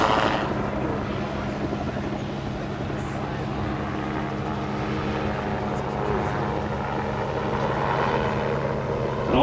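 A gyrocopter at a fly-in event in Wauchula, Florida drones steadily overhead as its turbo engine pushes it faster in a nose-down run, a continuous rotor and engine roar mixed with people talking nearby.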